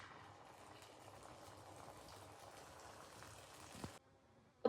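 Omelette batter frying in oil in a pan, a faint continuous sizzle and crackle that runs for about four seconds, then drops away to near quiet.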